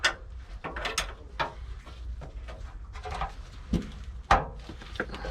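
An 11mm spanner tightens the brake line fittings on a rusty Hymer motorhome built on a Fiat Ducato, giving close, sharp metallic clicks and ratcheting taps at an irregular pace, with no talking.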